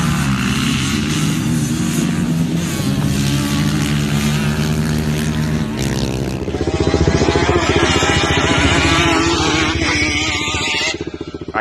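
A Yamaha Banshee ATV drag races across sand, its two-stroke engine buzzing loudly and rising in pitch through the gears, then a second harsher high-revving run takes over before tapering off near the end.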